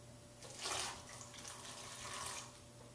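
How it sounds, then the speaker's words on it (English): Half a cup of water pours into chili sauce ingredients before blending for Mexican grilled chicken adobo, a soft, steady splashing stream that swells twice over a low kitchen hum. "I have a 1/2 cup of water just to kind of help with blending."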